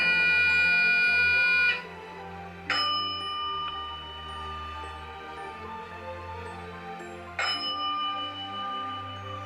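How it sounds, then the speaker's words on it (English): Sharp mechanical clanks of railroad tower levers break in at intervals, each followed by ringing electric bells and buzzing tones over a steady low rumble, on an O gauge model train layout. "you can hear the clanking of levers and accompanying bells and buzzers as the daylight rushes past"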